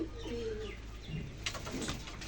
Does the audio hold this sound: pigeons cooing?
yes